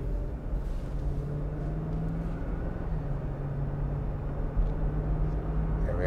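Constant low rumble of a Lexus GX460 SUV on the road with a damaged, pulling alignment after off-road use, heard as steady engine and tyre drone from inside the cabin, no talking.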